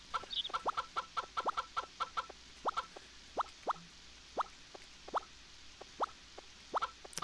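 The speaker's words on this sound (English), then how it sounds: "there's something nice about these chickens during the rain" Chickens cluck in a steady, repeated pattern of short calls close by inside a coop in the video game Harvest Moon 64, with a soft wash of rain underneath.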